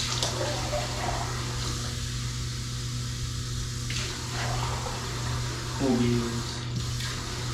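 A tap runs water into a cup in a kitchen, a steady hiss under a constant low hum, broken by short spoken remarks and a brief rising pour tone near the end.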